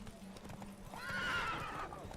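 Roach, a horse in a Witcher 3 race, gallops with rapid clip-clopping hooves and lets out a clear mid-clip whinny, all fairly faint in the distance.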